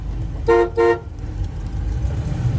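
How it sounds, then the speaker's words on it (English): Two short, loud honks from the horn of a retro shorty Chevy van, evenly spaced and close by, over a steady low rumble. "Everything works the way it's supposed to, including the horn here."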